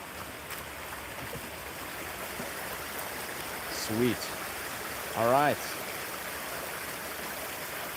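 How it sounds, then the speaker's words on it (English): A river stream flows in a continuous, even rush of water outdoors, steady throughout, with someone speaking briefly twice over it. "Welcome to the rivers"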